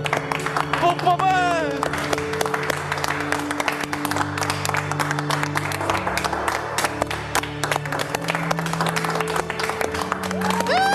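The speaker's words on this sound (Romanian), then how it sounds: "Aplaudiri! Aplaudiri!" Guests at a wedding ceremony break into sustained applause, many hands clapping close and loud while voices shout and whistles rise over it, continuing throughout.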